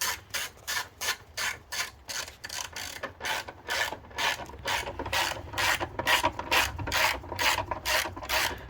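A ratchet wrench tightens the nut on the battery hold-down strap of a Mercedes A220, producing steady rapid clicking strokes in short regular bursts, close and fairly quiet, with no talking.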